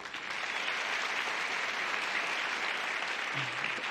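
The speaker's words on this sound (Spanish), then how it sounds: "Un aplauso para Mora." Theater audience at a comedy monologue about the environment applauds steadily, a dense, even wash of clapping lasting about four seconds, moderately loud and without voices rising above it.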